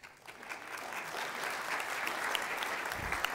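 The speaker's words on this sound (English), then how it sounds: "so now you can really clap" A lecture-hall audience at a modernist home-cooking lecture bursts into steady, dense applause that holds at an even level throughout, with a faint voice briefly surfacing near the end.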